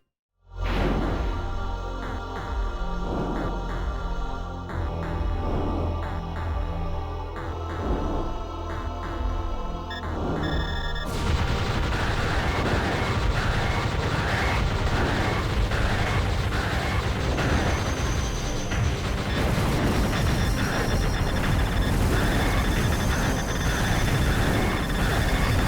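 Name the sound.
gunfire and explosions from the video game Panzer Dragoon Zwei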